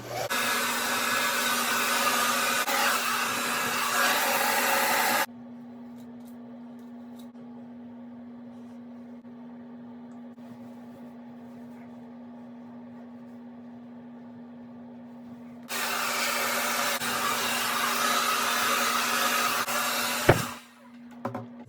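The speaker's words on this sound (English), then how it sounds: "It takes the tension off of my hair when I'm blow drying through it" A hair dryer blows on hair in two long stretches, a loud steady airy whir with a constant motor hum, switched off for about ten seconds of quiet between and ending with a clunk.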